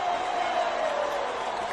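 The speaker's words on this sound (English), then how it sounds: "Look at the crowd, a jubilant crowd" A big stadium crowd roars in celebration after Zimbabwe's ODI cricket win over the Netherlands at a sports club, a dense sustained wash of cheering with no break.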